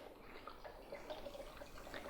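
Organic coconut water pouring into a container, a faint soft trickle with light splashy bubbling, quiet and continuous.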